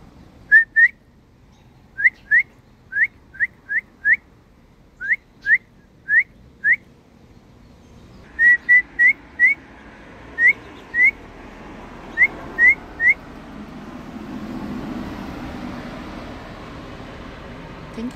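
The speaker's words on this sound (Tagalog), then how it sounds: "Where are you, bird?" Short whistled bird calls ring out outdoors in fine weather near flowering trees, paired rising notes repeated in spaced groups, clear and fairly close, with faint background hiss and a low rumble toward the end.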